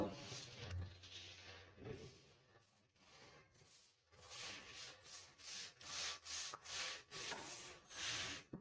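Writing rubbed off a classroom board with an eraser, heard as a run of rhythmic scrubbing strokes, soft at first and then steadier and louder, close by with no talking.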